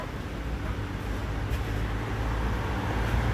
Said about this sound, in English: That bus is loud.